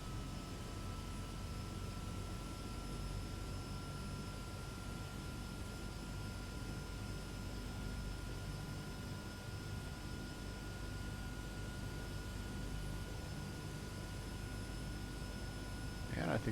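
Turboprop engine of a Turbo Otter floatplane in a flight simulator running up after start, a steady droning whine with constant tonal hum that holds evenly throughout.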